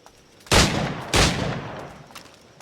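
Two loud, close gunshots about half a second apart, each a sharp broadband crack with a short decaying tail, from a firearm in the Assassin's Creed IV Black Flag video game.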